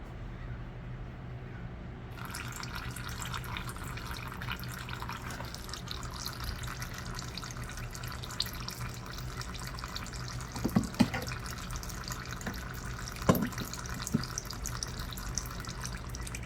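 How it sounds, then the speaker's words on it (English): Engine oil drains from a dirty Champion dual fuel generator in a thin, steady trickling stream over a low background hum, with a few faint clinks. "we'll leave that loose so the oil will drain nicely"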